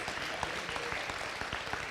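Guests at a school football awards banquet give a round of applause, a brief, moderately loud spatter of many hands clapping that stays even for its whole length.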